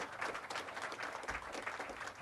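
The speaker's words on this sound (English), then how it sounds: "please give her a round of applause" An audience claps steadily, a soft, dense patter of many hands that goes on without a break.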